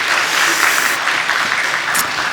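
A congregation at a Holy Week special dawn prayer meeting in a church claps together, producing a dense, even burst of applause that carries on steadily for a couple of seconds with no talking.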